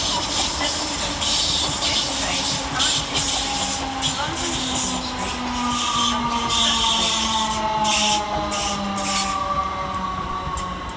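Two British Rail Class 321 electric trains arriving at Stratford station, with a steady hum and hiss of traction motors, whining tones that slide downward as the trains slow, and clattering wheels over the rails, close and loud with no voices.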